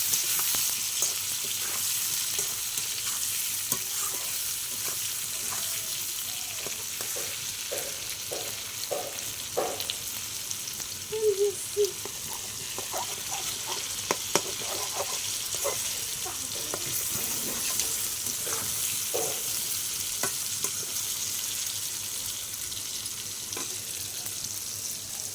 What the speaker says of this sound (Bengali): টমেটো কাটা দিয়ে আর একটু নাড়াচাড়া করে নিই।